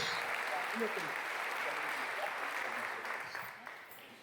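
A church congregation applauding during a Portuguese-language evening service, a dense, sustained clapping wash heard from within the hall that slowly fades toward the end.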